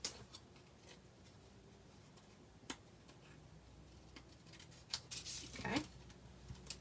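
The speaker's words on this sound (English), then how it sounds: "Let me get my paper snips." Paper snips cutting into a paper doily at a craft table, a few quiet crisp snipping bursts near the end after sparse small clicks, faint and close.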